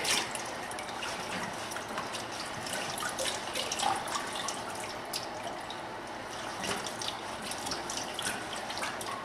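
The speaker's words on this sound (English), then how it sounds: "Want to get out as much of the yucky water as you can without dropping your battery." Continuous splashing and trickling of dirty water pouring out of a car battery, close and steady, with small drips and gurgles throughout.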